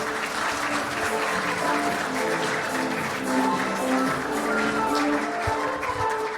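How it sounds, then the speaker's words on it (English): Steady applause fills an opening ceremony hall, with dense clapping from a large audience sustained throughout and a faint murmur of voices underneath. "So you can applaud all the gentlemen and ladies"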